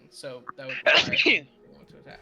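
A single sharp sneeze bursts out loudly mid-conversation, surrounded by people talking around a gaming table.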